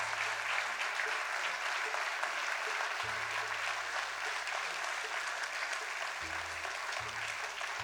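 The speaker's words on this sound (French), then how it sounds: "Ça mérite des applaudissements quand même." Audience applause at a Villejuif New Year's wishes ceremony for local talents, a steady dense wash of many hands clapping that holds loud and even throughout, with faint low hum underneath.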